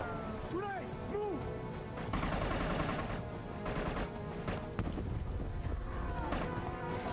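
Sniper rifle shots ring out in the shooter game Inversion, several sharp cracks spaced a second or more apart over steady game background noise, with a voice heard briefly.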